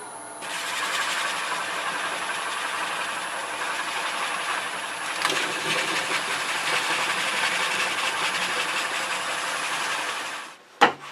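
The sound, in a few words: sanding box elder hollow form on lathe with sandpaper and dowel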